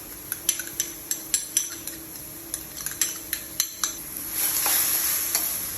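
Two packs of parboiled instant noodles are stir-fried with a premixed sauce, giving a rapid run of close utensil clacks against the pan over a soft sizzle, followed by a louder burst of frying.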